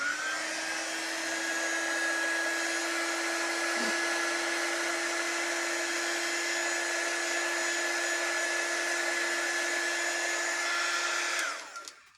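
A handheld heat tool blows steadily for about eleven seconds while drying a chalk craft project, giving a continuous loud whirring hiss with a thin whine, then cuts off at the end.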